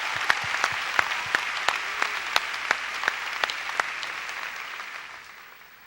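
A church congregation applauds, with a few loud, distinct nearby claps ringing out at a regular rhythm over a softer crowd wash that tapers off at the end.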